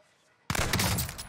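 Video game gunfire, landing a headshot, erupts suddenly after a near-silent moment into a loud, dense burst of rapid shots that continues to the end.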